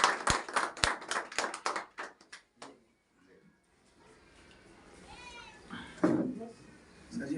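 An audience gives a burst of brisk hand clapping that fades out within a few seconds, followed by a quiet room with faint murmurs and a brief voice.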